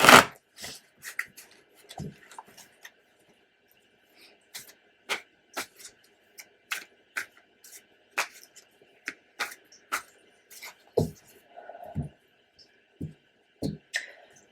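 Soft, scattered rustles and taps of tarot cards being handled and shuffled, coming in irregular bursts with quiet gaps between, close to the listener.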